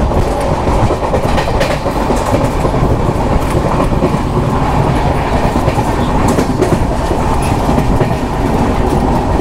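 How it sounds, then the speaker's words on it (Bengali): A fast-moving train on the Vellore to Howrah route, riding in new coaches, gives a loud, steady rumble with a continuous clickety-clack of wheels on rails throughout, with no talking. "ট্রেন বেশ দ্রুত গতিতে এগিয়ে চলেছে।"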